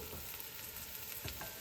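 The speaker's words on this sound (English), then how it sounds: "did you hear that sizzle?" Mushrooms sizzle steadily in a hot pan, a dense crackling hiss with a few louder pops, close and unbroken.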